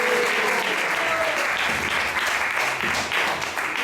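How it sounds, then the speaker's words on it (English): A temple congregation at ISKCON Atlanta gives a round of applause during a Sunday class, sustained loud clapping from many hands filling the room throughout, with faint voices beneath it. "So let's give a round of applause for their wonderful service."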